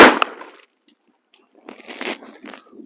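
A single loud, sharp blast from a Smith & Wesson 500 Magnum revolver firing a Federal 325-grain Fusion round opens the clip, close by and followed by a quick ring-out; after a short quiet, a voice speaks.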